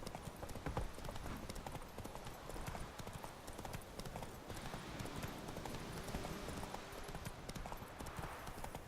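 Horse hooves clip-clop steadily and continuously in The Witcher 3: Wild Hunt on PS4, a brisk riding rhythm with a dense gameplay background throughout.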